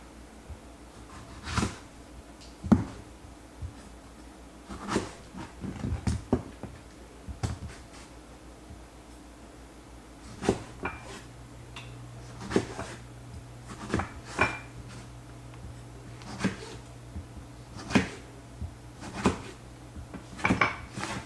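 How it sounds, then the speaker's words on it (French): A knife chops tomatoes into quarters on a cutting board in a home kitchen, giving a string of sharp, irregular knocks, some close together and some spaced apart, against a low steady hum, with no talking. "Alors, couper les tomates en quartiers."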